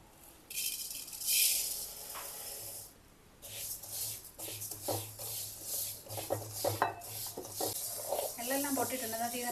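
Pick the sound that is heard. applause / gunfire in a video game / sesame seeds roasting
sesame seeds roasting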